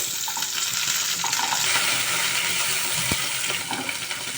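Beans, carrot and tomato frying in hot oil in a wok with dried chilli, bay leaf and five-spice, a steady close sizzle with occasional light scrapes and clinks of a stirring spoon, no talking.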